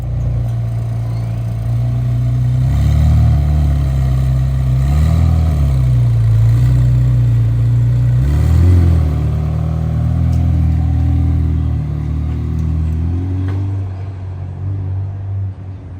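A McLaren 720S sports car engine idles with a deep, loud rumble on a Knightsbridge street, rising in a couple of short revs before settling and fading slightly at the end.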